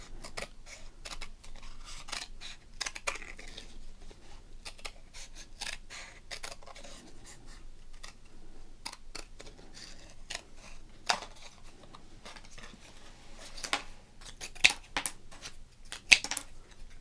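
Scissors snipping through football trading cards, a long run of quick, crisp close-up cuts and rustles at low volume, alone in a quiet room.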